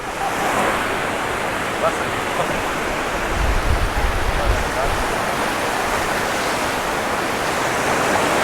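Sea surf washing steadily around someone paddling in cold water on a Mallorca beach at Can Picafort, a broad continuous wash with a low swell near the middle and no talk.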